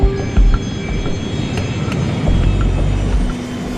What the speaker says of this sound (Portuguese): O jato Legacy está indo para Manaus, no norte do Brasil, uma parada a caminho de Nova York.